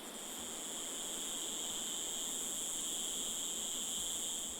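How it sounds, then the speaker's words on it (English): Dense, shrill insect song drones steadily, a continuous high buzzing chorus of cicadas in a Madagascar mountain jungle filling the background with no pauses. "the jungle echoes to the song of the cicadas"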